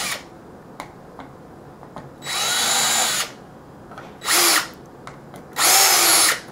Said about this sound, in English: So we're gonna drill that next. We're just gonna countersunk both of the smaller holes at 3/32.